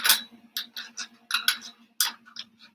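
A K1 machine working on a part for an RC plane launcher gives off faint, irregular ticks and light clicks in quick bursts, heard in the background.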